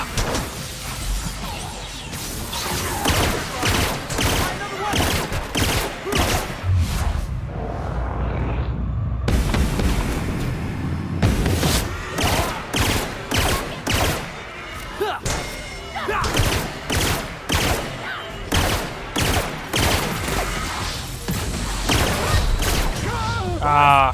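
Gunfire and combat impacts in The Outer Worlds video game: repeated loud shots and thuds in rhythmic volleys with short gaps, while a voice talks over the fighting.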